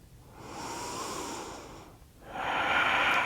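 Deep, slow breaths during a yoga pose, a long airy inhale followed by a brief pause and a stronger, hissing exhale, close and clear with no talk.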